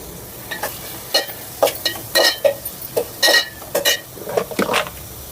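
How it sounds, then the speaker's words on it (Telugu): Onions fry in a pan for chicken curry, a steady sizzle broken by repeated sharp scrapes and clinks of a spoon stirring against the metal, close and alone. "ఉల్లిపాయలు వేసుకున్నాక బాగా వేగినవ్వాలి."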